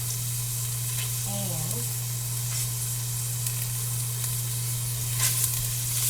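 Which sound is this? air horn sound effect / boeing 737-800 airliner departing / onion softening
onion softening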